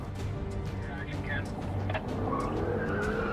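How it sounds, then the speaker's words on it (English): Jaguar car tires skidding and squealing during filming, with rising and falling squeals over a rumbling engine, while a voice talks over the top. "we went through 6 sets of tires"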